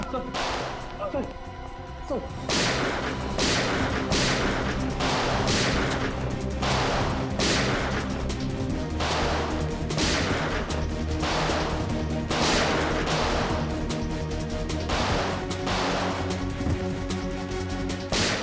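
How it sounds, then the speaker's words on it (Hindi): Loud gunshots crack repeatedly outside at a fairly even pace, one after another, with voices audible underneath. "बाहर गोली चलने की आवाज।"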